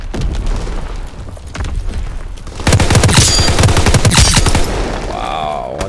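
Dense gunfire in the World War II shooter Call of Duty WWII: loud, rapid overlapping shots and bursts that thicken into a heavy, continuous volley midway, with a brief voice or effect near the end.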